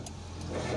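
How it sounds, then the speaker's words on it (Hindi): A car engine, just refuelled after running on reserve petrol, turns over briefly and catches, a short low rumble with a faint rising rev toward the end. "ये देखिए स्टार्ट तो हो गई, लेकिन बंद हो गई"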